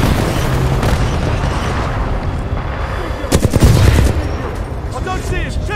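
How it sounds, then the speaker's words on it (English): Dense gunfire rattles through a Titanfall 2 match: loud, rapid bursts and booming shots layered over a constant game din, growing heavier near the middle. "Am I being shot?"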